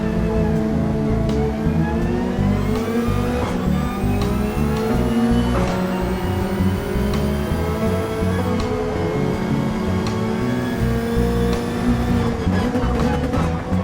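Race car engines in the Gran Turismo 7 video game roar loud and continuously, the pitch repeatedly climbing through the gears and then dropping at each shift.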